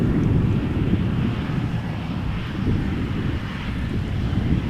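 A fixed-wing airliner arriving at Amsterdam Schiphol Airport gives a continuous broad roar mixed with wind noise, steady and moderately loud with no voices.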